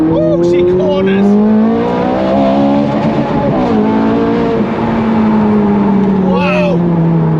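A Ferrari 430 Scuderia's engine screams close up as it pulls hard through quick upshifts, the pitch climbing and dropping at each change, loud and sustained with a voice faintly underneath.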